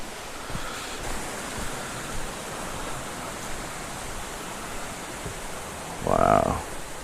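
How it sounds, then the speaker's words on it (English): Rushing water of a stream on Dartmoor, a steady broadband wash heard outdoors with a brief louder burst near the end. "I can hear rushing water."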